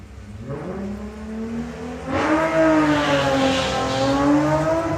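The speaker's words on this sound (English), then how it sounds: "Lawrence Clark with the Thunderbug and Bruce Harvey with the Greenpeace Racing Golf" Volkswagen drag racing cars, a Thunderbug and a Golf, launching and accelerating hard down a drag strip, engine note climbing into a loud rising roar after a quieter opening, no voices.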